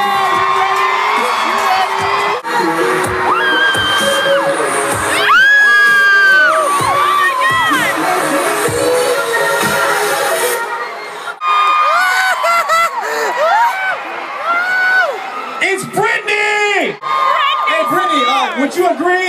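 A large outdoor concert crowd at Wango Tango 2013 roars with cheers, whoops and high shouts in continuous loud waves. The roar briefly dips, then surges again with scattered yells.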